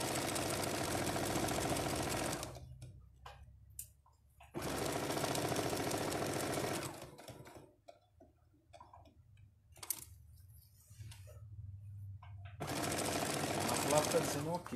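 Sewing machine stitching over a bag seam to reinforce it, running in several loud sustained bursts separated by pauses with quieter sounds and occasional talk.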